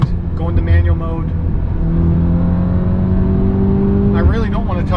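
A VW with a 7-speed DSG gearbox and COBB tune revs in gear, its engine note climbing steadily in pitch, loud and close from inside the car, with a voice speaking briefly at the start and end.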